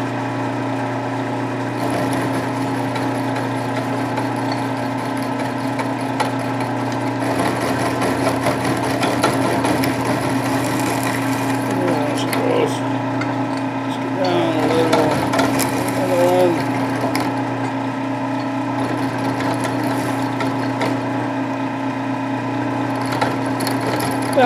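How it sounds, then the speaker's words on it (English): A milling cutter trimming slots for flange-mount bearings drones steadily with a constant motor hum and faint cutting chatter, holding an even level through the whole stretch with no talk. "I'm just going to move my cutter halfway this time, and we'll just trim them out"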